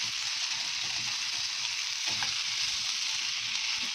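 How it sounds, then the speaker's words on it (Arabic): Garlic fries with potatoes in a pan while being stirred, giving a soft, steady sizzle with faint scraping, evenly sustained and fairly quiet, with no voices. "هقلب بس التومه كده معاها لغايه يعني ما ريحتها تظهر كده"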